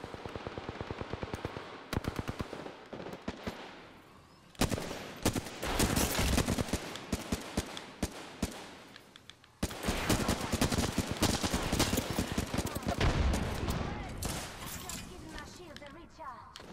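Rapid bursts of automatic gunfire and sharp shots in the Apex Legends video game crackle in dense volleys, with a short lull before heavier stretches of loud shooting and a voice talking over the action.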